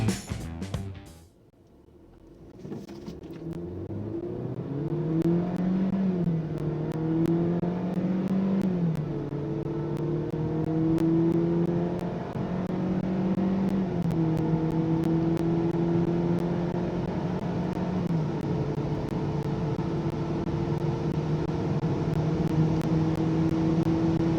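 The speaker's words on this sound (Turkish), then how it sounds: "Test konuğumuz 316, dönüş yönünde 0'dan 100 km hıza 9 saniyenin biraz üzerinde çıkıyor." A BMW 316i F30 with a 136 hp engine accelerates hard from 0 to 100 km/h. The engine note climbs loudly through several gear changes, each shift briefly dropping the pitch before it rises again, and no one speaks.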